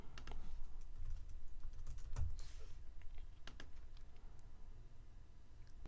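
Fast, light clicks of a computer keyboard as a domain name is typed, with brief pauses between bursts of keystrokes, quiet and close.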